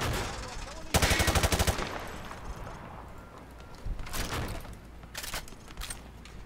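Automatic gunfire at a shooting range in Call of Duty Modern Warfare 2 Remastered: a loud, rapid burst of roughly a dozen shots, then a few fainter single shots and short bursts spaced apart over quieter background.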